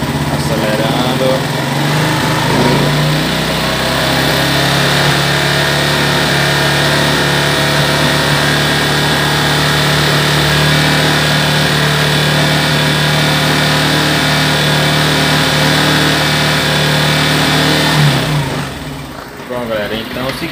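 Small Honda Biz motorcycle engine running and revving, a loud, close, buzzing single-cylinder drone held steady for most of the clip before dropping off near the end.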